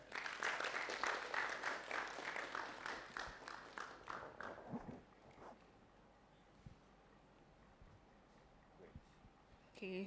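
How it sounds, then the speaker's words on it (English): A room of students at an academic orientation clap for a classmate, a rapid, moderately loud burst of applause that thins out after a few seconds, followed by quiet murmuring and faint movement. "Shall we clap for her?"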